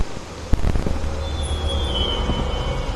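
A train rumbles and squeals in the horror video game Evil Inside, with a sharp clank early on, then a continuous low rolling roar and a thin metallic wheel squeal drifting across the top.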